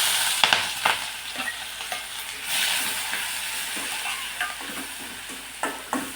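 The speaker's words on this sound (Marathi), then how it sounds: "इकडे कढईमध्ये तेल गरम करून घेतलंय, त्यामध्ये वाटलेली मिरची आणि लसूण टाकायचा" Garlic and ground green chili paste sizzles and spits in hot oil in a kadhai, a steady crackling hiss with a few sharp pops and soft stirring scrapes, close and alone without talk.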